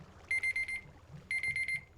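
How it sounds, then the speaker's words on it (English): Two bursts of rapid electronic alarm beeps, each a quick run of about five shrill tones, sound loud and close with a brief pause between them, marking the end of a 30-minute recording session. "that is the alarm, guys, telling me my 30 minutes for this first episode is up"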